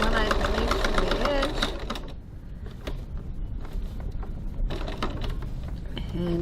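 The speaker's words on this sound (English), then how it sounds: "stitch down to this point here, pivot, and stitch across the bottom" A sewing machine runs steadily, stitching a seam along the bottom and sides of a fabric crossbody bag, its mechanical whir continuing close by beneath a talking voice.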